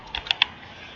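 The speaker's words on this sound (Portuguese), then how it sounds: "Eu dou Enter para finalizar" Three quick clicks on a computer keyboard, the last a firm press of the Enter key, close and crisp in a quiet room while editing a dimension in Solid Edge CAD software.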